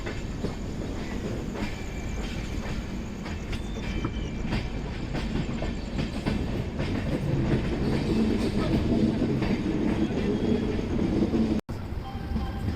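Garib Rath Express passenger train running on rails between Yesvantpur and Secunderabad, heard from on board as a steady, loud rumble of wheels with faint clickety-clack joints and occasional squeal throughout.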